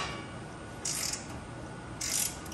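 A ratchet socket wrench tightens frame stiffener bolts on a 2021 Polaris RZR Trail Ultimate, giving two short bursts of rapid, close ratcheting clicks separated by a quiet pause.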